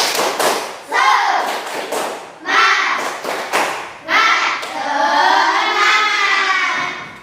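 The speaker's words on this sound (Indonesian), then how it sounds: "Semangatnya dulu, tepuk semangat" A classroom of students performs a rhythmic spirit clap, bursts of sharp claps in patterned groups with short pauses between, close and loud, with the teacher's voice speaking between the rounds.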